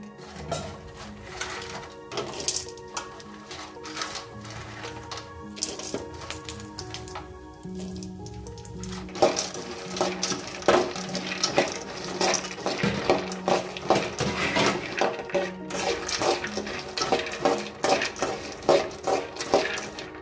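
Cashews and pistachios dry-roasting in a pan for dry fruit laddus: a continuous light sizzle under rapid, irregular rattling and clinking as the nuts are stirred, growing busier and louder partway through.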